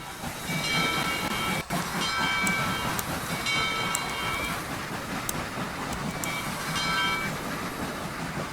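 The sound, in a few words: Southern 630 locomotive engine sounds in Trainz video game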